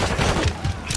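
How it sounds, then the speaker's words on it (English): Incoming gunfire in a tactical shooter video game, a brief rattle of muffled shots striking nearby, loud and close, with no talk. "Taking fire. That was close."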